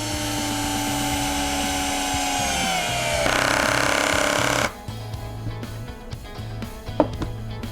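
A Bosch GSR 120-LI Professional cordless drill runs at clutch dial 20, a loud steady whine that shifts pitch midway, then cuts off abruptly, leaving quieter clicks and handling noise.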